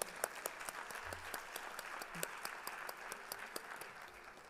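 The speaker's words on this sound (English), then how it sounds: "Let's give him a round of applause." Audience applause at a spring concert of Disney classics, a steady moderate wash of clapping that stays fairly faint and even throughout, with sharper individual claps standing out now and then.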